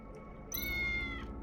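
A cat meows once in the video game Tales of the Neon Sea, a single clear, drawn-out call over a low steady game background hum.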